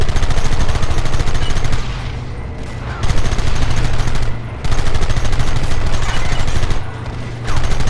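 Sustained gunfire from a Red Dead Redemption shootout in rocky terrain, with dense rapid machine-gun bursts that stop briefly and resume several times, loud and close throughout.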